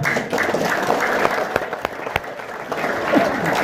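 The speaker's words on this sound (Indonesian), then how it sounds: "Coba Ibu, tepuk tangan dulu." Participants at an Indonesian sales training session clap together in a brisk, moderately loud burst of applause, with a few sharper individual claps standing out and faint voices underneath.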